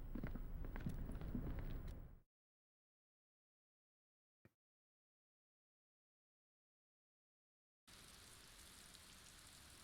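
Steady rain falling in the video game Disco Elysium, a dense hiss of drops that plays for a couple of seconds, cuts to silence with one faint tick, then returns at a lower level.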